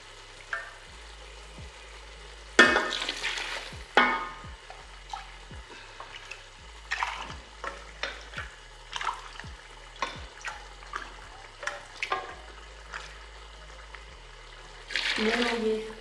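Cups of mutton stock poured into a pot of rice for degi-style mutton pulao, heard as bursts of splashing and sizzling with clinks, over a steady low hum and occasional talking.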